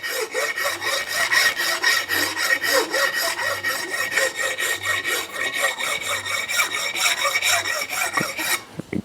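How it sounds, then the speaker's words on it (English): A sharp rasp files a freshly forged steel hammer head in steady, rhythmic back-and-forth strokes, each pass a close, gritty scraping, about a dozen strokes in a row. "a nice sharp rasp also finishes it off very nicely"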